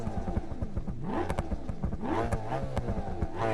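A car engine in the BeamNG driving game during an RLS career mode car meet revs up and down with a rough, throaty tone, loud and continuous throughout, with a few clattering knocks mixed in.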